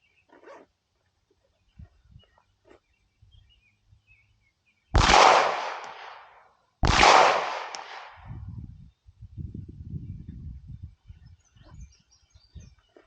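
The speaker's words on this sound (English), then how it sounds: "I'm learning this pistol, so I'm probably not going to give the fastest shots with this thing." Two loud, sharp Glock 48 pistol shots fired at a humanoid target on an outdoor range, about two seconds apart, each ringing out with a decaying echo, followed by quieter shuffling and low handling noise.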